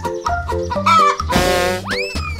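A cartoonish chicken clucks in a few short, bright bursts, followed by a rising springy cue, loud and close in an animated animal-themed kids' scene.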